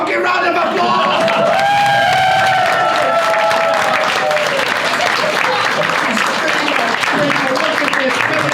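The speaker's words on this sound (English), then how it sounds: "Give her a fucking round of applause." A comedy-club audience bursts into sustained loud applause with cheers and whoops, a dense wash of clapping that carries on through the whole stretch before slowly thinning.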